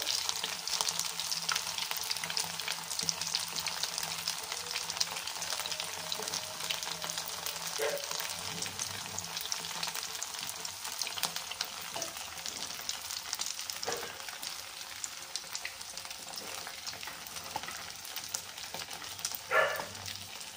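Sabudana vada frying in hot oil until golden brown, a steady close crackling sizzle with occasional soft stirring clinks, continuous throughout.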